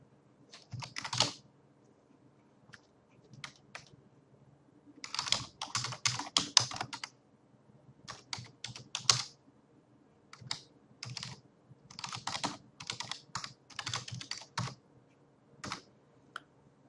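Bursts of typing on a computer keyboard, fast clattering runs of keystrokes separated by short pauses, close and clear with no talking.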